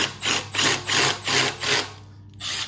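A Milwaukee M12 Fuel Surge hydraulic driver runs in five rhythmic bursts of roughly equal length, each a smooth, fairly loud whirring hum with brief pauses between, followed by one shorter burst at the end.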